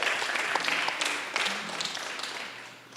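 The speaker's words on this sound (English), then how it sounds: "let's give him a round of applause." A Baton Rouge blues revue audience applauds a blues musician with a steady wash of clapping that holds fairly loud and eases slightly toward the end, with faint voices mixed in.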